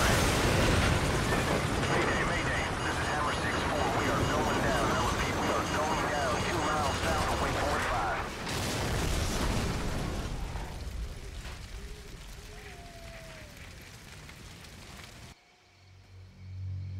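An incoming missile explodes in Call of Duty 4: Modern Warfare, a loud, sustained roaring blast that rumbles for several seconds and fades, followed by a brief muffled silence and low noise, with voices shouting.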